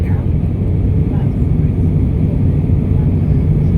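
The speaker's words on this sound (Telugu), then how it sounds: "మళ్ళీ విమానం పైకి లేస్తుంది" An airplane's engines roar during takeoff in a steady, heavy low rumble, loud and unbroken throughout.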